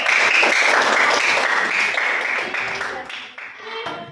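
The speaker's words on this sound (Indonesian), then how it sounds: "Ya, berikan aplaus dulu." Audience of students clapping together in a classroom, a dense burst of applause that holds steady for a few seconds and then thins out as it fades.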